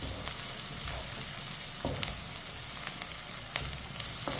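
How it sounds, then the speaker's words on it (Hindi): Green chilies fry with besan-coated okra (bhindi) in a pan, giving a steady, close, continuous sizzle with a few sharper crackles and spatters, and no talking. "सब्ज मिर्च को मिक्स करके 2 मिनट के लिए पका लेंगे।"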